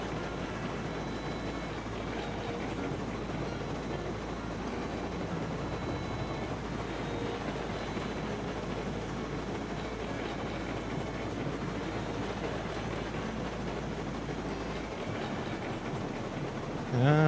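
A steam locomotive in the train game Railroads Online runs at speed with a continuous rumbling, clattering drone that stays even and fairly loud throughout.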